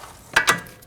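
A ratchet with a 19mm socket turns a nut off a bolt on a 2011-2016 Kia Optima front camber kit, producing two quick, close ratcheting clicks in under a second.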